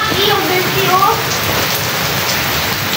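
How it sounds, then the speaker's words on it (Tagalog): Heavy rain falls steadily as a dense, close hiss on surfaces, with faint voices in the background early on. "Lakas ng ulan."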